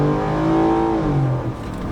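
2023 Ford F-150 with the 5.0 Coyote V8 accelerating hard from a launch, a loud rising engine roar that drops as it shifts, heard close with no talking.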